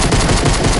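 Pistol shots in a video game, a dense, loud burst of rapid gunfire filling the short moment with no talking.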